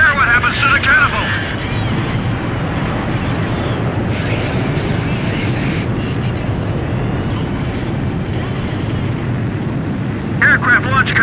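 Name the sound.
aircraft launched from carrier catapult in Ace Combat 5 video game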